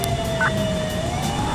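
Police car siren in the video game Grand Theft Auto IV with a 1980s NYPD car, a steady wailing tone rising and falling slowly over constant game ambience.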